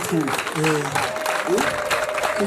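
A crowd claps at a family ceremony where one family gives a cow to another, with a dense patter of hands throughout and voices speaking over it.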